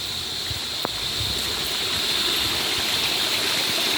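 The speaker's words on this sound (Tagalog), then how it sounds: "Running water." Mountain water runs through a stream at a resort in San Luis, Aurora, a steady close rushing and gurgling flow with one brief sharp click near the start, no voices.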